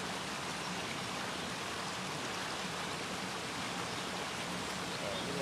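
A river rushes steadily downstream, giving a constant broadband wash of flowing water with no breaks, loud and close throughout.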